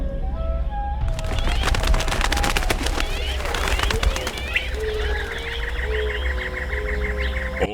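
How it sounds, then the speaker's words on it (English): Flock of birds flapping away in the real-time strategy game Battle Realms, a sudden burst of wingbeats and chirps erupting after a second of quieter game ambience, then continuing over a busy battle soundscape with music and unit voices. "I'm not sure if the birds flapped because of the horses or something else"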